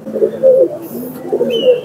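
Teddy pigeons coo in soft, rounded, repeated phrases at close range, two throaty bursts separated by a short pause, with no voices over them.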